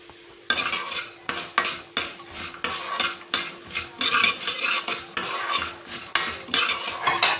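Coriander seeds, urad dal and cumin seeds frying in a pan, stirred with a metal spoon: rhythmic clinking scrapes over a bright crackling sizzle, close and fairly loud, with no voices.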